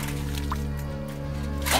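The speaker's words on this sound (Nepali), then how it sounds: "पानी फाल्ने क्रम हुँदैछ।" Water is bailed out by hand while catching fish the old way, with brief wet splashes and drips over a steady low hum.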